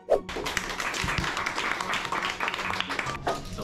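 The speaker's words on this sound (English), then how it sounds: "Applause." Audience applause after a student math presentation, a few seconds of scattered, moderately loud clapping in a room, with a sharp tap at the start.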